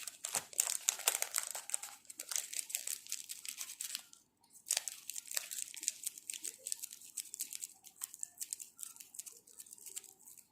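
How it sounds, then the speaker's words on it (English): Glazed paper being crumpled and folded while wrapping a lollipop, a close, continuous crinkling made of rapid bursts with a short pause midway. "So first of all you will cover this lollipop with this glaze paper like this."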